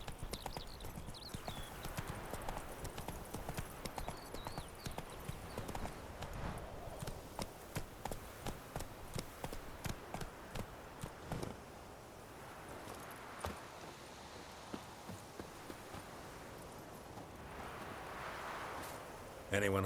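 Roach the horse from The Witcher 3 trotting, a faint quick steady clip-clop of hooves repeating through most of the stretch, slowing toward the end, with ambient game sound.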